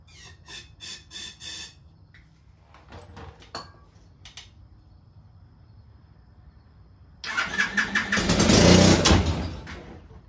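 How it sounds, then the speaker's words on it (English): Small engine of a Chinese ATV quad being fired with starter fluid sprayed into the intake: faint cranking and clicks at first, then a sudden loud burst as the engine catches and roars briefly before cutting off. "I'm gonna put some starter fluid down the intake and see if it fires up."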